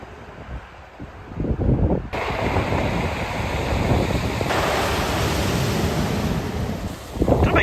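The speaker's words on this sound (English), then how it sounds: "I do love the noise when the waves roll back off of Pebbly Beach" Waves roll back off a pebbly beach on a choppy coast after a storm, making a steady, loud hiss and rush of surf with wind noise and surges that rise and fall; no voices.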